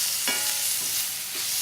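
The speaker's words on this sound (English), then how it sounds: "after our peppers and onions have been sauteing" Sliced peppers and onions sauté in olive oil in a hot pan, a steady, bright sizzle close by with a few soft stirring scrapes and no talking.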